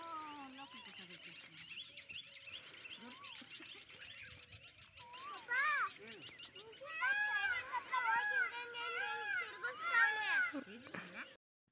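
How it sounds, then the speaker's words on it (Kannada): Morning birds chirp around a village home, with rising and falling whistled calls that grow busier and louder in the second half, some notes fitting a cuckoo, heard close and without speech. "ಅಕ್ಕಿಗಳ ಚಿಲಿಪಿಲಿ ಜೊತೆ ಕೋಗಿಲಿ ಸಹ ಕೂಗ್ತಾ ಇದೆ"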